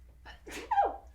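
A single short sneeze, quick and close, with a sharp breathy burst ending in a brief nasal snort, heard alone against quiet background.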